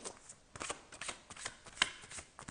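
Soft shuffling and flicking of cards being handled for a card reading, a series of quiet riffles and taps close by, with no talking.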